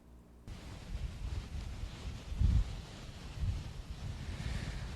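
Strong wind blows at Camburi beach, rumbling and buffeting the microphone in uneven gusts, with a couple of heavier thumps standing out over a constant low roar.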